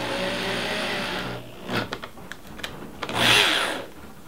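Power drill driving screws into a chicken coop door, a close loud motor whine that stops, followed by a few clicks and knocks, then a second short burst of drilling.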